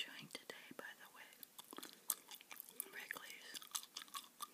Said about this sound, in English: Here's the gum I'm chewing today, by the way.